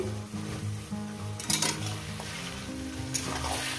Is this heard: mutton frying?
yes